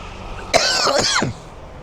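A single close, harsh cough with a raspy, throaty burst lasting under a second.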